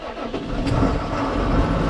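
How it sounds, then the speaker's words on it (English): A 2013 John Deere loader tractor's diesel engine, with about 4,300 hours, is running after starting, giving a loud, steady, broadband rumble close by with no talk. "I'm going to start with the loader, let the glow plug start up"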